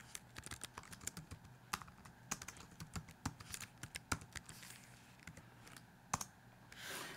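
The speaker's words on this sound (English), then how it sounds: "So I'm going to center the cursor, type in my title." Quick, irregular keystrokes on a computer keyboard as a title is typed into a paper, close and fairly quiet, with sharp clicks in uneven bursts and brief pauses, no talk.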